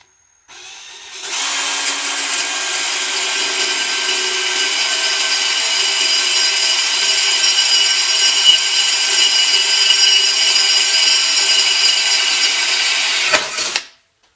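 A power drill whines steadily for about twelve seconds, a continuous high buzzing grind through material, starting and stopping abruptly.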